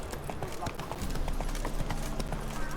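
Hoofbeats of a ridden horse in the fantasy video game The Witcher 3, a fast, even clip-clop gallop heard up close beneath character voices.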